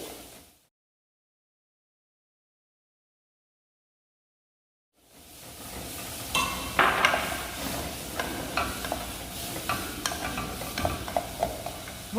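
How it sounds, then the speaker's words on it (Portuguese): After a short silence, chopped onion and leek drop into melted butter in a pan and begin sizzling, with spoon scrapes and stirring knocks over a steady crackle. "Após a manteiga, nós vamos colocar a cebola. Boto a cebola. Depois eu boto alho poró"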